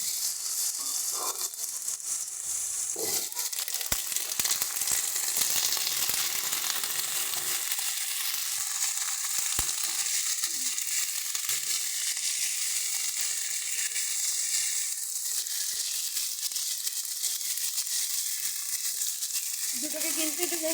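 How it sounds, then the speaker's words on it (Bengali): Potato and raw green tomato pieces fry together in a pan with a continuous soft sizzle and hiss, broken by a few light clatters and scrapes. "আলুটা দিয়ে আমরা একেবারে টমেটোটাও দিয়ে দেব।"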